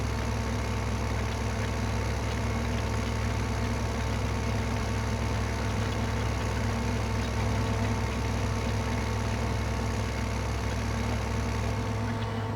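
A steady, droning combine harvester engine hum in the video game Farming Simulator 2015 runs continuously without change, loud and even throughout.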